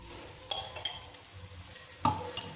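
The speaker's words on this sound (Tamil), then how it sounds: "எண்ணெய் ஊற்றிக்கிறேன்." Oil poured into a hot pan for a pearl millet dosa gives faint sizzling, with a few sharp metallic clinks of a utensil against the pan scattered through it, quiet and close, with no voices.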